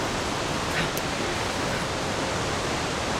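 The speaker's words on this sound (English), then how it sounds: "The waterfall is so loud." Loud waterfall in the survival game The Long Dark, a constant, dense roar of falling water with no variation, steady and close throughout.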